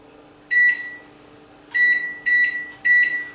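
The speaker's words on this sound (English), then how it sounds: "Microwave." A microwave oven sounds a series of sharp electronic beeps close by: a single beep, a pause, then three more beeps in quick succession over a low hum.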